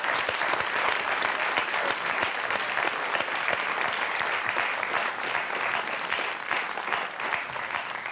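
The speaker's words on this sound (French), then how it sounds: "On va vous applaudir très fort." Sustained applause from a studio audience on the French TV game show Motus, a dense, steady clapping that fills the room and carries on throughout.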